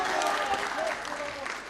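A boxing crowd at a title main event cheers and applauds in a continuous wash of noise, with a commentator's voice running over it.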